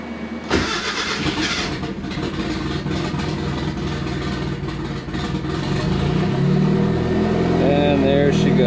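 A Mazda Miata engine fitted with GT500 injectors cranks and catches on its first start, then settles into a loud, steady idle that rises slightly toward the end as a voice speaks over it.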